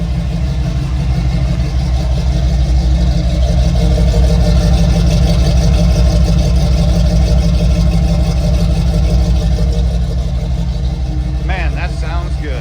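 A 1966 Ford F100, a highly customized truck, idles with its exhaust exiting under the truck near the rear axle, giving a steady, loud low rumble throughout with a faint voice at the end.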